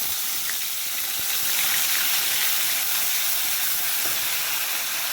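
Onion paste hits hot oil flavoured with nigella seeds, giving a continuous loud bright sizzle and hiss that holds steady throughout without any talk.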